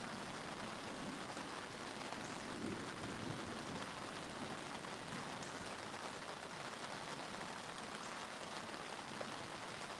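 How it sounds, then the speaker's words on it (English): Heavy rain pours steadily on a riverbank during a thunderstorm while fishing for catfish, a dense continuous hiss with faint low rumbles of thunder mixed in, fairly quiet throughout. "I don't know if you can hear that thunder in the screen."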